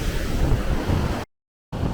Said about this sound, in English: this is the waterfall that drops the most amount of water in all of Iceland